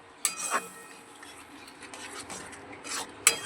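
Sugar-free protein halwa being stirred slowly in a pan over low heat, heard as soft, quiet scraping of a spoon against the pan with a few sharper scrapes standing out.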